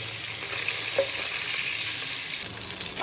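Katla fish pieces rubbed with salt and turmeric frying in oil in a pan, a loud, continuous hiss and crackle with faint stirring clicks throughout.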